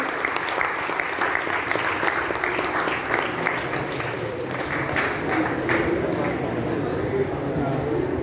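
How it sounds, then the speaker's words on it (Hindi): At an Ayurveda workshop, an audience gives Doctor Aditya a loud welcome with dense, continuous applause that holds steady for the full eight seconds over crowd noise. "प्लीज़ उनका स्वागत करें जोरदार तालियों से"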